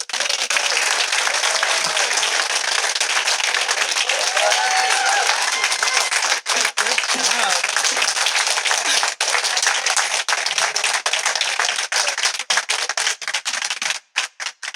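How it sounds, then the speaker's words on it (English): Sustained, dense applause from a large audience at a mayoral swearing-in ceremony, loud and continuous for many seconds before thinning into scattered claps at the end. "Give her another round of applause."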